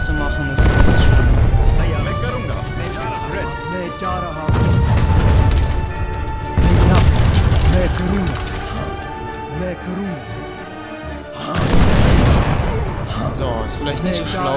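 Stationary cannon artillery in the strategy game Age of Empires 3 fires in repeated heavy booms spaced a few seconds apart, layered over dense battle noise and game sounds.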